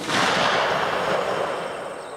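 A single suppressed gunshot from a Marlin Govt rifle gives a dull, muffled crack with a broad burst that fades slowly over about two seconds. No one speaks.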